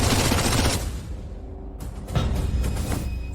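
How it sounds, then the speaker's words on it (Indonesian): A volley of gunfire, a dense loud burst of shots at the start, a short lull, then another rattling burst of firing to the end. "Tembak. Jadikan dia saringan."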